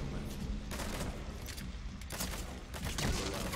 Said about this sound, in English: Press the attack button to fire.